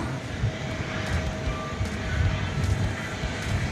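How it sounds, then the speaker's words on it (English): A Frontier airliner departs DFW Airport at night, a steady distant engine roar with faint rumbling throughout, alone without talking. "We've got a Frontier departure, going to Sacramento."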